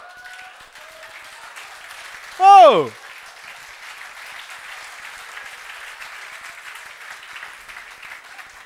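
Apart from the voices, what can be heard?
audience applause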